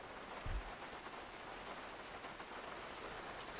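Steady rain falls on a street beside a parked Mercedes, a dense even hiss of drops on hard surfaces with one brief thump near the start, no voices.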